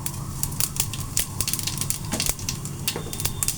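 Fennel seeds sizzle in hot oil in a pan, giving a quiet, continuous crackling and popping with scattered sharper snaps throughout, with no talk.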